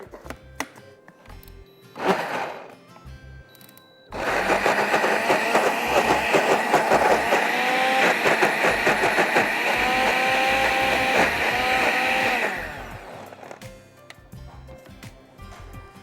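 A kitchen blender grinds onion, green chillies, cumin, ginger and salt in a loud, steady whir lasting several seconds, with its pitch shifting as the load changes, before cutting off; a short clatter comes before it starts.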